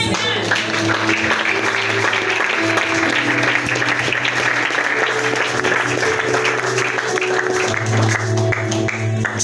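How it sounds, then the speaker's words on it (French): A church congregation applauds during a Sunday sermon, steady dense clapping filling the room for around nine seconds, with background music and voices underneath. "je veux que tu acclames de ça"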